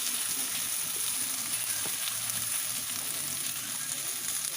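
Diced eggplant fries in hot oil with a loud, even, continuous sizzle close by, and no one talking.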